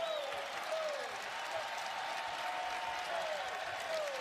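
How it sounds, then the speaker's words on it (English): A college basketball crowd at an Ohio State home game against UCLA claps and cheers in a steady, broad wash of applause, distant and sustained, with faint squeaks of sneakers on the court underneath. "Fans cheering."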